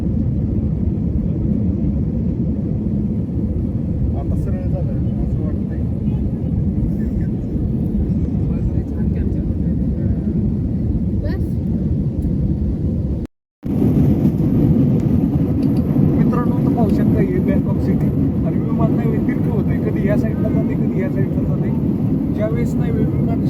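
Inside an airliner cabin shortly after takeoff on a flight from Thailand to Mumbai, a loud, constant broadband engine and air roar fills the whole stretch, cutting out for an instant midway before resuming.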